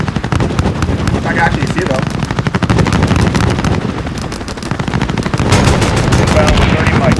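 Aircraft gun run in Call of Duty Modern Warfare (2019): rapid, dense machine-gun fire pounding continuously for several seconds, with heavy impacts and explosive rumble, loud and close, with radio voices talking over the barrage.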